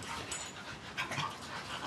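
Pug and shar pei puppies play up close, with quick, breathy panting and small scuffling sounds over a brief stretch.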